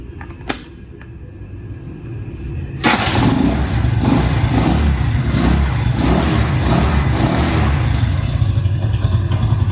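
A Hero Honda HF Deluxe motorcycle engine starts up after a couple of seconds of quiet, then runs loudly and steadily with rhythmic revving pulses throughout.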